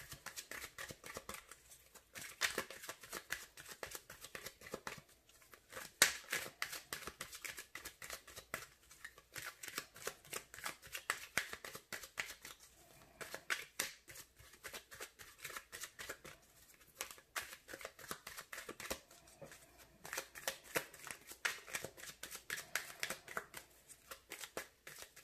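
Crisp, quiet riffling and slapping of a deck of tarot cards being shuffled up close, coming in irregular bursts of rapid flicks separated by brief pauses.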